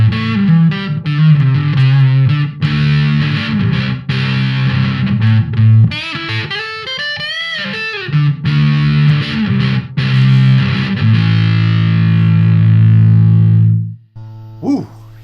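An electric guitar runs through a fuzz pedal set to the middle position with the fuzz knob turned down, giving gritty distorted riffs, a bend-heavy lead passage and a long sustained final chord that rings out, loud and alone.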